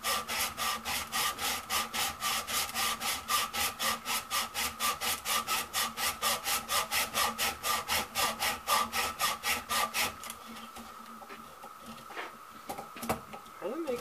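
A hacksaw cuts a keyway into a Gravely tractor hub in steady rhythmic back-and-forth strokes for about ten seconds, close and clear, then stops, leaving faint handling noises and a few knocks.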